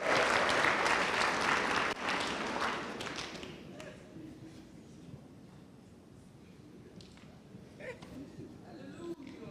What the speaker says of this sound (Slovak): Môžeme dať potlesk Bohu